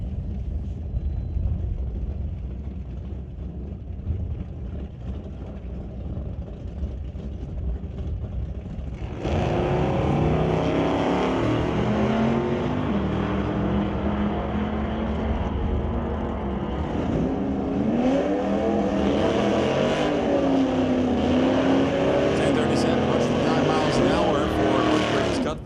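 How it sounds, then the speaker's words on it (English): Two Chevy drag race cars sit at the staging beams, engines running. A rough low idle builds into louder, sustained revving with rising and falling pitch, under a track announcer's voice. "we got the two Chevys fired up, and they will roll back into the staging beams"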